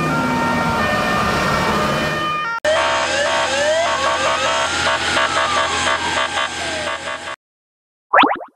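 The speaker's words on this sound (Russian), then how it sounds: "Это пожарная машина!" A loud electronic siren wails and cycles through rising and falling tones, then cuts off abruptly, followed by a short chirping burst.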